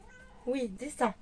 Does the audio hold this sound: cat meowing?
yes